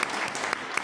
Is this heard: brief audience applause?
yes